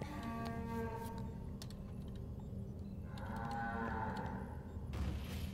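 Cows mooing in the video game Quantum Conundrum: long, low, drawn-out moos that overlap at a steady level, with faint keyboard clicks underneath and no talking.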